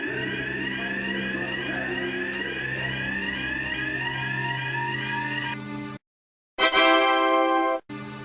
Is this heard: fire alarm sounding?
yes